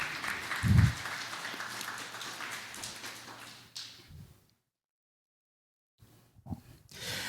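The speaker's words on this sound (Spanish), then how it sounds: "Denle un aplauso al Señor" A church congregation claps for the Lord during a sermon, a moderate wash of applause that fades out into a stretch of silence before a few scattered sounds return.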